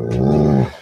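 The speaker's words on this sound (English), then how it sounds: "What kind of dog is that?" A dog lets out one loud, close, drawn-out bark with a growling edge, lasting under a second and heard alone.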